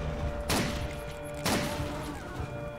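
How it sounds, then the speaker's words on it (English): Two sharp blasts in the shooter game WolfenDoom: Blade of Agony, roughly a second apart, each a loud burst over a steady low game background. "I blew up something."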